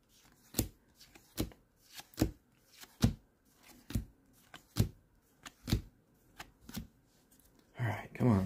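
Sports trading cards from Donruss football and Topps baseball packs are flipped through one by one, giving a regular series of crisp snapping flicks about once a second with a rustle at the end.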